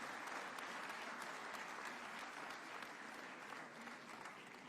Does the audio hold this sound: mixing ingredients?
no